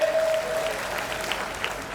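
Loud, steady applause from an audience welcoming a history lecturer at a community education society function in Sumerpur-Shivganj, sustained dense clapping throughout with no one speaking.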